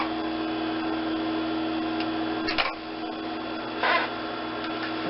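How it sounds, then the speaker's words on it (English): A sewing machine running steadily while stitching fabric casings for a hood, its motor a continuous mechanical hum with brief louder bursts as the stitching continues, close and alone. "sew straight off the end of the fabric and onto the next one"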